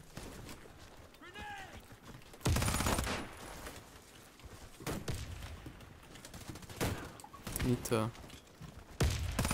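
Silenced Uzi Pro gunfire in the shooter game Warface comes in several short bursts spread through the clip, with a player talking between shots.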